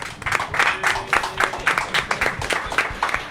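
An audience at a Banh Mi event in Vietnam applauds, with rhythmic, fairly close hand claps repeating at a steady pace over a busy room background.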